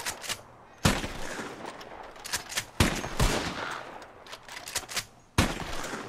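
Rapid gunfire at birds in Red Dead Redemption 2, a series of loud, sharp shots with ringing tails spaced irregularly across the clip, plus faint background game ambience between them.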